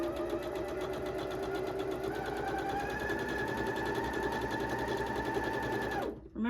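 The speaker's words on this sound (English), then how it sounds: "Let's do some sewing." A sewing machine stitches a 1/4-inch seam through fabric for a Halloween wreath pillow, whirring in a steady, continuous mechanical hum for about six seconds before stopping abruptly.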